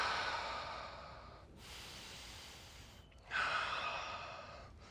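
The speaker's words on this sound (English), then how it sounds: "And breathing." Audible breathing during a yoga stretch, a long exhale that fades into a quiet pause, then another deep breath begins with a sharp rise, close and intimate.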